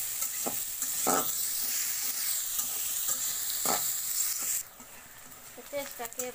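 A generous amount of chopped onions frying in a pan for a beef bhuna, a continuous loud sizzle broken by two distinct stirring scrapes, with a faint voice briefly near the end.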